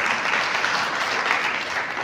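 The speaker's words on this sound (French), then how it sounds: "que je vous demande d'applaudir" A crowd at a mutual-insurance board election in Côte d'Ivoire applauds a candidate, a brief steady patter of clapping.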